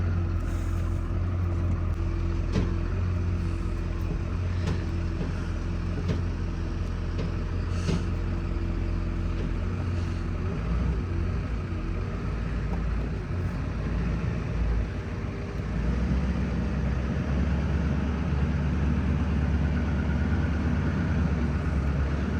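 Vehicle towing a trailer up a steep ranch road, a continuous low engine drone and rumble under load with occasional clanks and rattles, close and sustained, the low-end labour deepening toward the end; no talking.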